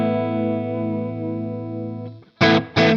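A sustained clean-ish electric guitar chord with slight grit rings through a Rev D20 amp, with light chorus and reverb shimmer, then two short sharp strummed stabs close up, no voices.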